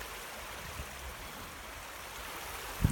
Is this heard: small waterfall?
yes